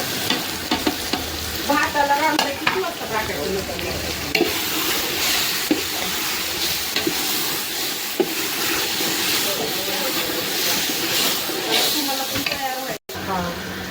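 Spices stirred into a vegetable curry frying in a pan give a steady, loud sizzle and hiss with scraping stir strokes throughout, while people talk nearby.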